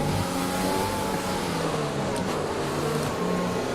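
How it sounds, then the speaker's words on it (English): An F1 car in the F1 2020 racing game, its engine revving steadily with a sustained whining drone as the tyres spin in a straight line to warm up, loud and continuous with no talk. "I'm trying to warm the tyres up by spinning the tyres."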